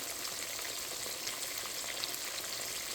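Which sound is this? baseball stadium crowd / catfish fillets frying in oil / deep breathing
catfish fillets frying in oil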